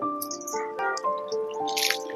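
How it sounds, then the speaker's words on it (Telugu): Water poured onto a freshly repotted grape plant in a terrace garden, a short burst of trickling and dripping with bright liquid tones, close and fairly quiet. "ఇలా పెట్టాక వాటర్ పోసుకోవాలంతే"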